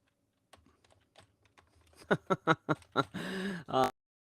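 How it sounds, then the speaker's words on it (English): Quick keystrokes on a computer keyboard: a few faint taps, then a burst of loud, evenly spaced clicks ending in a longer rattling run of keys, close to the microphone and with no talk. "People don't need to see me type in."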